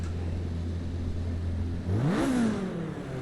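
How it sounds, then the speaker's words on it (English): A race car engine in the Assetto Corsa racing game on the Nordschleife drones steadily at idle, then revs up sharply and holds high before easing back, loud and close with no voices. "Love the way the car sounds."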